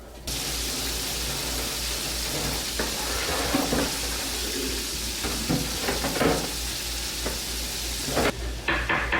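Fish fries in hot oil with a steady, loud sizzle that holds throughout, with occasional soft clinks and stirring sounds over the bubbling.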